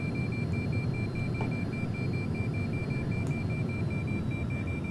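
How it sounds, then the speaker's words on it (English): A steady electronic alarm tone beeps continuously inside the cockpit of a Falcon 50EX in X-Plane, holding one pitch over a low rumbling engine and cabin hum with no talking. "I have no idea what this alarm is."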